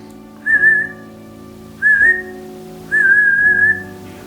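Person whistling to imitate a distinctive human whistle heard in a cemetery, three clear tonal whistles, each rising slightly and then held, the last one longest, close and loud over a faint background hum.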